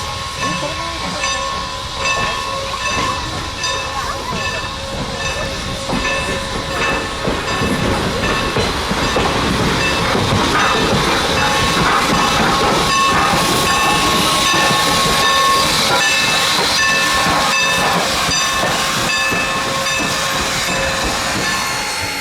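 Steam locomotive 475 moving away from its train at a rail yard: a steady loud hiss of steam with rumbling, clanking rail noise and a few faint whistle-like tones running throughout.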